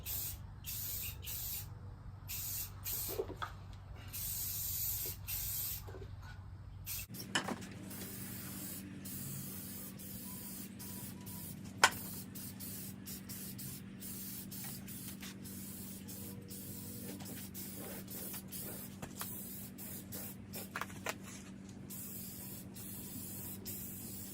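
Spray-can paint hisses continuously onto a car body in a steady, close stream, with short pauses and brief clicks between passes.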